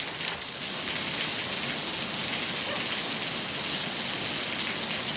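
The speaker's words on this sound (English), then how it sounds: "Now I started hailing. Look at the hail jumping around." Heavy outdoor rain mixed with hail hisses in a steady, dense roar of pattering impacts, close and loud throughout, with no voices.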